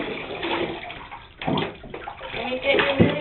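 Shower water runs and splashes while a cat is bathed, a close, uneven hiss of spray on fur and tub, with a person talking softly over it.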